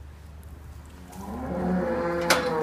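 Cattle lowing inside a farm barn building; a single drawn-out moo swells from a quiet, low-humming background and holds loud near the end.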